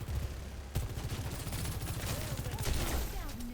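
Rapid automatic gunfire in a first-person shooter video game, several dense bursts of shots close up over steady background game noise.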